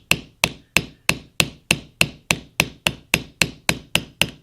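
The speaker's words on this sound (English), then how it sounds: "so I'll take the concave side of my rivet set and kind of dome that a little bit" A rivet set taps a copper rivet on leather to dome it, thirteen sharp, evenly spaced metallic strikes in a steady rhythm, close and loud with nothing else heard.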